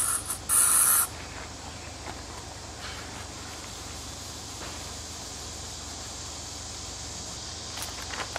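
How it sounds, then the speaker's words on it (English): Short burst of aerosol bug spray hissed onto a car headlight, a loud spray near the start followed by quieter hissy background noise. "there's our bug spray fix to this side of the headlight"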